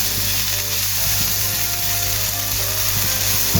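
Chicken and chorizo fry in a pan with a steady, dense sizzle that holds constant throughout. A low hum sits underneath, with occasional faint clicks and no talking.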